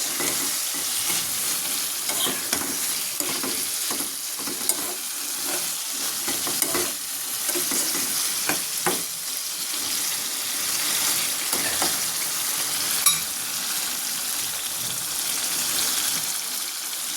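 Fish fries in a pan with a steady close sizzle and crackle while a utensil scrapes and stirs the pieces at irregular intervals.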